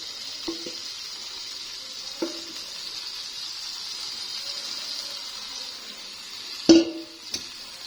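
Mutton chops fry over a high flame with a steady soft sizzle and hiss, punctuated by a few brief clatters of stirring or utensil contact, the loudest near the end.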